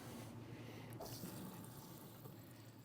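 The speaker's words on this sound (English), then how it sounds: "So now we are going to rinse the chicken." Tap water runs at a very low flow into a sink while raw chicken is rinsed in a colander, a steady soft wash of water with a faint splash, quiet and continuous with no talking.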